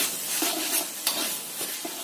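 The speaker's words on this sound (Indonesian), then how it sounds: "kemudian serai 2 batang yang kita geprek tadi. Kita tumis sampai matang." Two bruised lemongrass stalks, with bay leaves, sizzle and hiss steadily in a hot pan, with a few soft stirring scrapes, close and alone.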